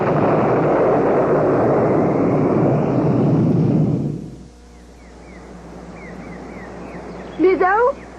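A loud, steady whooshing hum of hovering unidentified flying objects in a children's cartoon that cuts off abruptly, leaving quiet warbling electronic chirps and a brief burst near the end.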